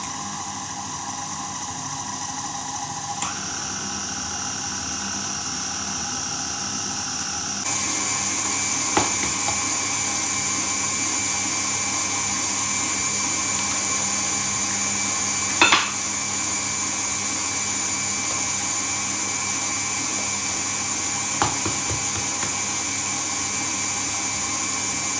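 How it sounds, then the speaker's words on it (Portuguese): An electric mixer whirs steadily as it beats eggs and sugar for a Simnel cake, running at low speed and then stepping up to a louder medium speed partway through, with a few sharp knocks of the beaters against the bowl. "Vamos bater isto inicialmente a uma velocidade baixa, que é para não voar açúcar para todo o lado, e depois vamos bater a uma velocidade média"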